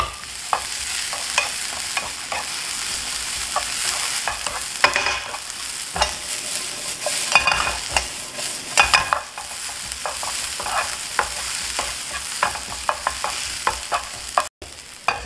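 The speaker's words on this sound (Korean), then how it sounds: "같이 볶으시면 돼요. 양파 따로 당근 따로 볶지 않으셔도 돼요." Onion, carrot and celery stir-fry together in a pan with a continuous sizzle, broken by frequent sharp scrapes and clicks of a utensil stirring, close and steady throughout.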